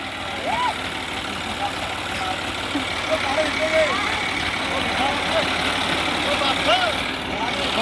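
A tractor engine idles with a steady, low, throbbing chug close by. Someone talks over it throughout.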